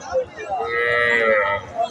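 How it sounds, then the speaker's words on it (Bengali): A heifer moos loudly and close by at a cattle market in one long, drawn-out low call, with no talking. "দেখতে পাচ্ছেন বকনা গরু"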